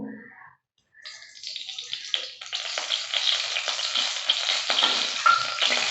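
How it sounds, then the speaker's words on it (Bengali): Oil sizzles in a pan while mutton curry is cooked, after potatoes were fried. The steady frying hiss starts about a second in and grows fuller and louder, with small crackles. Nobody speaks. "তেলেতেই আমি এবার মাংস রান্নার জন্য তেল দিয়ে দেবো"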